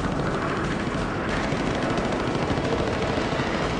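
WWII air combat, with a flight of four German jets lobbing cannon shells at Mustangs: a dense, continuous roar of rapid cannon fire, loud and unbroken throughout.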